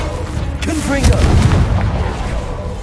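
Confringo explosive spell in Hogwarts Legacy, a sharp booming blast followed by a rolling rumble, loud and close, with a shouted voice over the impact.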